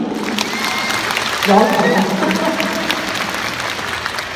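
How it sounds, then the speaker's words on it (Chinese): Audience applause at a concert at Mohegan Sun Arena, a large crowd clapping in a continuous roar through a big hall, with a voice speaking briefly over it. "掌声鼓励"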